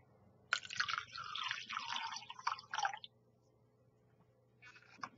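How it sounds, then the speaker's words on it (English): Water poured into a bowl of cupcake batter, a close splashing trickle lasting a few seconds that stops, then resumes briefly near the end in a quiet kitchen. "And then add your water."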